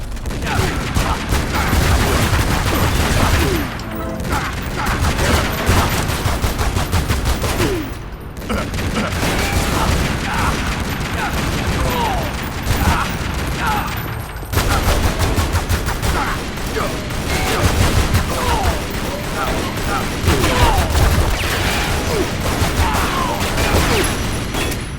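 Continuous gunfire in the Tomb Raider video game, loud and dense, with rapid overlapping shots and booms running almost without a break, a couple of brief lulls, and faint voices in the background.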